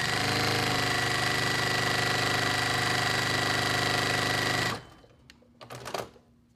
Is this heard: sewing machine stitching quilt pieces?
yes